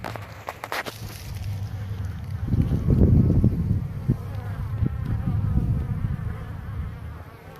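Honey bees buzz in a low, continuous drone around styrofoam and wooden hives outdoors, swelling midway, with a few soft knocks and light wind at the start.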